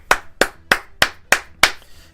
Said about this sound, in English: We forgot to do a round of applause for Regidog.